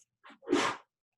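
A single sharp sneeze with a short intake before it, close and alone in an otherwise quiet room.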